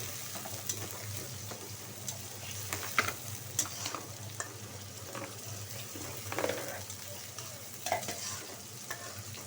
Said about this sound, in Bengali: কড়াইটা গরম হোক দিয়ে দিচ্ছি তেল আর পেঁয়াজ কাঁচামরিচ কুচি